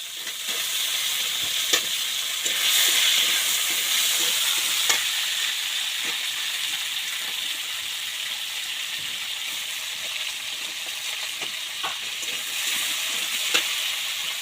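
Potatoes frying in hot oil with onion and cumin, a steady bright sizzle with occasional stirring scrapes, close and even throughout.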